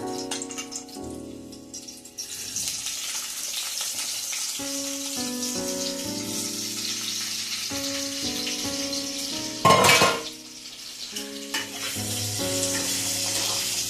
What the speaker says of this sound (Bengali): এবার আমি আলুটা দিয়ে দিলাম।